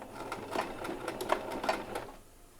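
A sewing machine back-stitches a homemade washcloth in a short, close burst of rapid, rhythmic needle clatter that slows and fades at the end.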